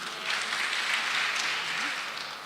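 A crowd at a political rally in Uasin Gishu claps in steady applause that holds evenly for a couple of seconds before starting to taper.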